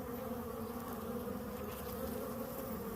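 Many honeybees buzz in a dense, continuous drone close by at an open hive, steady throughout with no talking.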